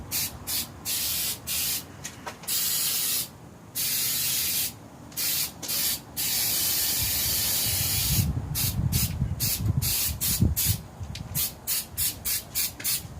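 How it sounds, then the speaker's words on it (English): Repeated bursts of rubber aerosol spray hiss from a can onto an old step van heater, short and long blasts in irregular rhythm, with some rubbing and handling noise in between. "It's going to be held together by whatever rubber spray we can get in there."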